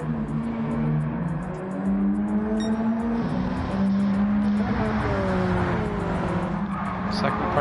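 Alfa Romeo and Mazda race cars lap a circuit, engines rising and falling in pitch through gear changes and corners, with a tire squeal late on, all under continuous commentary.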